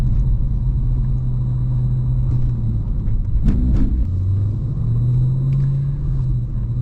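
A Holden HSV GTS cruising downhill on a mountain road, a steady low engine rumble with a brief surge in the middle, heard from inside the car with no talk.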